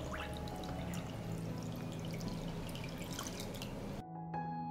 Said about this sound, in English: I pour water into the pot up to the height of the lid.